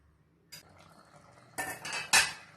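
A metal lid is set onto a pot of simmering snake gourd curry, with a soft clink followed by two louder metallic clatters close by, alone without talk.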